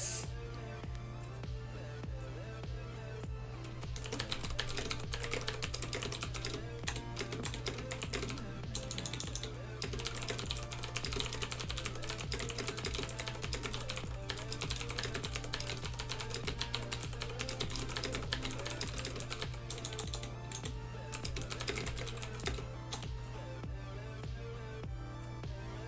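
Computer keyboard keys clatter in quick, uneven bursts of clicky typing close by, continuing through nearly half a minute with short pauses over a low steady hum.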